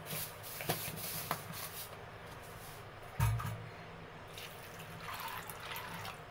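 Water runs into a pot of fresh cowpea beans seasoned with turmeric and salt: a steady, close wash of splashing with a brief louder knock midway, and no talking.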